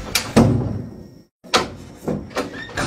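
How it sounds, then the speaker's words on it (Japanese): A door is handled indoors with a series of close thumps and knocks: one solid impact, a brief silence, then several more bumps as it closes. "クロージングザドア"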